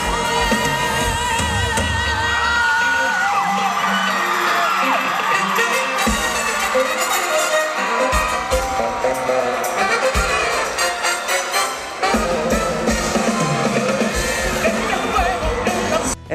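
A crowd of female fans screams and cheers continuously at a concert in Tijuana, a loud, dense wall of shrieks and yells that never lets up.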